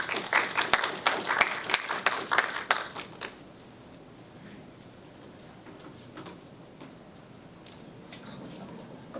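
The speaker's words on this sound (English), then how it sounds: "please give our candidates for Student Advocate General a warm round of applause as they enter the stage" A live audience at a student government debate breaks into a burst of warm applause and clapping for the candidates entering the stage. It is loud and dense for about three seconds and then fades into quiet room noise.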